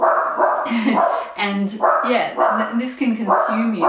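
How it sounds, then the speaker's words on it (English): A dog barks and yips in the background of a home setting while a person talks over it steadily. "Sorry, that's the dog."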